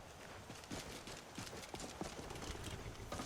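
Horse hooves clip-clop steadily in Skyrim, a run of even, moderately close footfalls at a walking pace through the whole stretch, with faint game ambience underneath.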